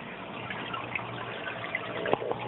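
Water trickles steadily over bioballs and drips down into a sump compartment below an Eshopps PF 1000 overflow box set up as a Herbie. The flow is low and continuous, with a few brighter drip splashes near the end.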